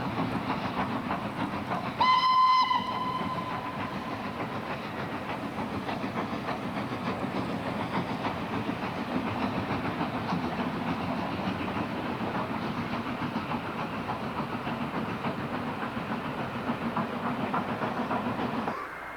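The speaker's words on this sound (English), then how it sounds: "the regular steam trains which ply the North Wales coast add to the atmosphere of this majestic town" A steam train running along the North Wales coast gives a brief whistle blast early on, then rolls on with a steady rumble and rhythmic clatter that lasts to the end.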